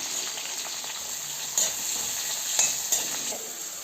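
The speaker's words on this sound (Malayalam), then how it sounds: "ഇതിലേക്ക് പച്ചമുളക് ഇട്ട് കൊടുക്കാം കൂടെ തന്നെ സബോള ഇട്ട് കൊടുക്കാവേ അങ്ങനെ ഇതൊന്ന് നല്ലതുപോലെ ഒന്ന് വഴുത്തിയെടുക്കാം" Green chillies and onion sautéing in a pan for chicken stew, a steady close sizzle of frying with a few sharper stirring scrapes and clicks, no talking.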